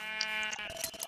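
Bleating sheep in a video game: a few loud, close, drawn-out baas in quick succession with no talk over them.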